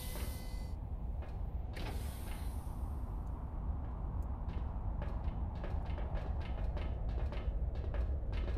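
A heavy mechanical door opens in the post-apocalyptic video game Encased, with a creaking, grinding mechanism and a series of clanks and ratchet-like clicks over a steady low rumble, no talk.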